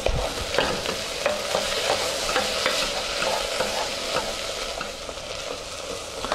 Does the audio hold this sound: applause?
no